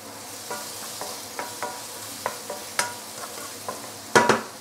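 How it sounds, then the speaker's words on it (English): Roast pork with garlic and spring onion is stir-fried in a hot pan, with a soft steady sizzle broken by about a dozen sharp scraping and clacking strokes of the spatula at a regular rhythm, ending in a quick rattling flurry. "Give it a last few stir."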